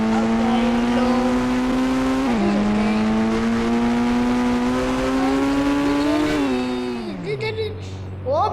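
A Mahindra Scorpio spinning in circles, its engine droning loud and steady with pitch rising and falling through each turn, tyres scrubbing underneath, then revs dropping sharply near the end.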